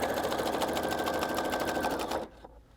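Sewing machine stitching stretched elastic onto a strip skirt, running in a steady rapid whirring rhythm for about two seconds before stopping abruptly.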